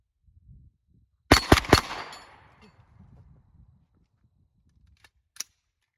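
Three rifle shots fired in rapid succession at a shooting outing, loud sharp cracks close together with a trailing echo, then a single fainter sharp report a few seconds later amid quiet.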